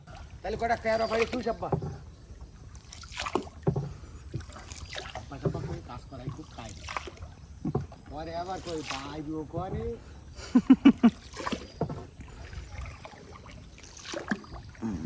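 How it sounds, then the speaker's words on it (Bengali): A small wooden dinghy moves along a crocodile-infested tidal creek in the Sundarbans mangroves, with soft water and boat noise running steadily beneath almost continuous talking voices. "আমরা ডিঙি নৌকা নিয়ে পা গুটিয়ে বসে আছি প্রত্যেকেই কারণ এই খালে কুমিরের আনাগোনা অনেক বেশি"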